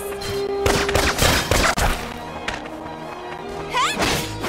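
Video-game gunfire in Valkyria Revolution: loud, close volleys of shots and impacts crash together in a dense burst, then thin out to scattered hits and a brief rising electronic effect.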